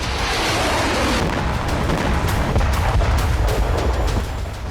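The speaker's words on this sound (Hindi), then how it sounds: "जहां पावर प्लांट के पास हूती की बैलिस्टिक मिसाइल गिरी, जिसके बाद जोरदार धमाका देखा गया।" A Houthi ballistic missile strikes near a power plant in Ashkelon, Israel: a loud, sustained roaring rumble of blast and debris with crackling bursts throughout, no voices.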